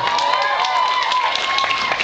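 A convention audience at Fan Expo Toronto applauding William Shatner, a continuous wash of clapping from a large crowd with voices mingled in, steady and fairly loud for the whole stretch.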